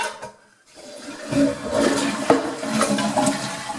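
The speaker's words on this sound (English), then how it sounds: "So I'm going to go ahead and flush this, and while it's filling, I will turn it off." A household toilet with an old fill valve being flushed: a short quiet pause, then a rushing swirl of water that settles into the steady hiss and trickle of the tank refilling, close by.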